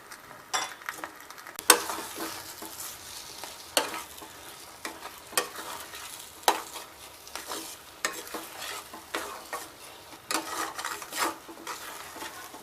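A spoon scrapes and stirs semolina halwa (sheero) with cardamom powder and cashew and almond pieces in a pan, giving repeated sharp clinks and scraping strokes over a soft frying sizzle, close and irregular.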